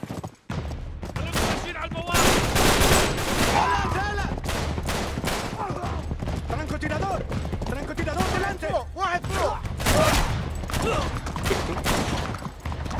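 Rapid gunfire rattles in the video game Uncharted 3, repeated close bursts of shots forming a dense, loud firefight, with a voice shouting in panic between volleys.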